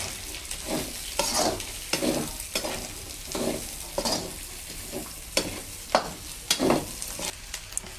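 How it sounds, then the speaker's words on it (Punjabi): Sliced onions frying in oil in a pan for a karela curry, a continuous sizzle broken by repeated scraping stirs of a spoon at an uneven rhythm, close up with no talk. "ਹੁਣ ਆਪਾਂ ਪਿਆਜ਼ ਭੁੰਨਾਂਗੇ 5-7 ਮਿੰਟ"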